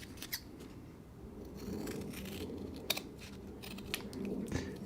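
Scissors trim excess Kydex sheet for a knife sheath with quiet snipping and rubbing, a handful of small crisp cuts spread irregularly over a low, soft background.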